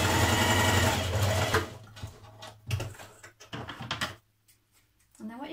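Close and steady, a sewing machine stitches a 1.5 cm seam on blouse fabric, its whir trailing off into short bursts and clicks as it back tacks, followed by a quiet pause and a brief murmur.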